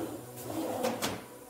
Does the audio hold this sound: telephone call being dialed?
no